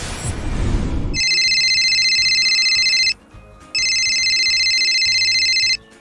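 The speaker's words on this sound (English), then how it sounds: "There's a dial tone on this phone." Landline telephone dial tone on a phone in an RV, sounding as two long steady electronic tone bursts separated by a short gap, loud and clear after a brief noisy start.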